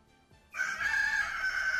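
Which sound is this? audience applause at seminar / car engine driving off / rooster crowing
rooster crowing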